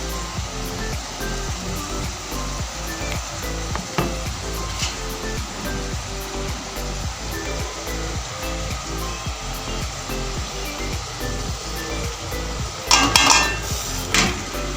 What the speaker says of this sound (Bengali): মশলাটা কষুক।